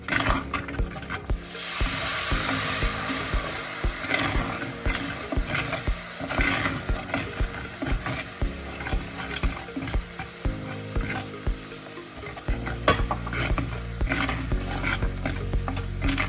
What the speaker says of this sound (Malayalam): ഇതിലേക്ക് പുളിവെള്ളം ഒഴിച്ച് കൊടുക്കാം